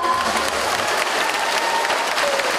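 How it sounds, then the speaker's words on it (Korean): Audience applauding at an outdoor summer night festival in a park, steady clapping from a crowd sustained throughout, fairly loud and close. "박수 부탁드립니다."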